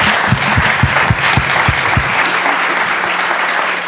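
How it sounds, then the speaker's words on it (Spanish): Audience applause for the host at an official book launch event, continuous crowd clapping with a few louder close claps standing out early, then the applause fading slightly toward the end. "¿por qué no le damos un aplauso a nuestro anfitrión?"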